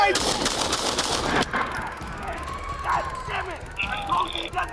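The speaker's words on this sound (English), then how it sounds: "shots fired" Police gunfire at a knife-wielding suspect during a dashcam-recorded confrontation: a dense burst of loud, sharp shots in the first second and a half, then a noisy aftermath with faint tones and voices.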